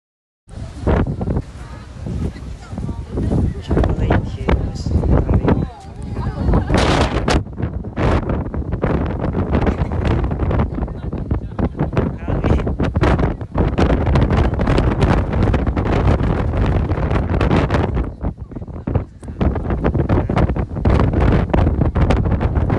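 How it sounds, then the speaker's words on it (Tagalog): Strong, gusty wind in Bohol, Philippines, buffets the microphone continuously with loud roaring and flapping, with brief dips between gusts. "Tsaka sobrang lakas talaga ng hangin."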